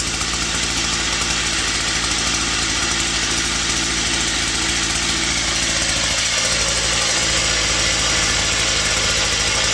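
A two-stroke engine on an old Japanese three-row rice paddy weeder roars loudly at high revs, steady and close, then briefly dips before picking up again.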